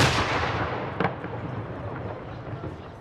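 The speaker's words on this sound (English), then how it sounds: "Every day at noon, they fire a cannon." A cannon fired at noon in Rome, one deep boom with a short sharp crack that rolls away into a long, fading rumble against steady outdoor background noise.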